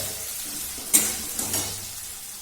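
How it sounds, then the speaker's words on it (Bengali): Spices fry gently in a hot pan for an egg chicken tarka, a soft, steady sizzle with a few brief stirring scrapes near the middle, fairly quiet and close. "জিনিসটাকে একটু ভেজে নেবো যাতে কাঁচা গন্ধটা চলে যায়"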